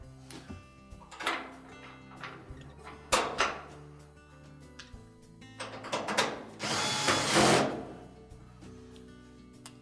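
A power drill drives a 5/16 screw into a Whirlpool dryer during an idler pulley repair, with several short motor whirs rising and stopping and a longer final burst, interspersed with light metallic handling clicks.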